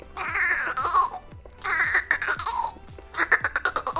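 A beatboxer imitates a cat's meow in three drawn-out falling cries, each broken into a rapid stuttering pulse by fingers tapping the cheek, the last ending in fast clicks.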